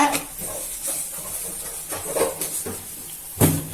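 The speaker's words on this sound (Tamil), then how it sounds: "எண்ணெய் காஞ்சதுக்கு அப்புறம் கடுகு உளுத்தம் பருப்பு போடுங்க" Mustard seeds and urad dal spluttering in hot oil in a heated pan, a continuous hiss broken by scattered sharp pops and crackles, with a louder burst near the end.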